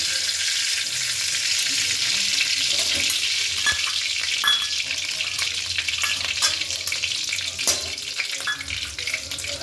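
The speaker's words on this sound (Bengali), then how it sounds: "এবার তেলের মধ্যে আমরা কিছুটা ঘি দিয়ে দেব।" Ghee added to hot oil in a pan for fried rice, a steady bright sizzle that stays close and even throughout, with a few faint clinks and no voices.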